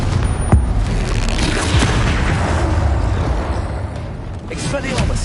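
Confringo blasting spell going off in Hogwarts Legacy, a dense, continuous rumble of booms and crackling impacts with heavy low-end energy, loud and sustained throughout, with voices over the game audio.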